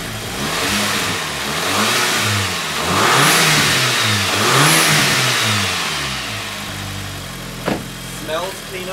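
A Volkswagen MK5 Golf GTI engine, freshly serviced, revs repeatedly in rising and falling blips, then drops back toward a rough idle, loud and close with brief knocks near the end.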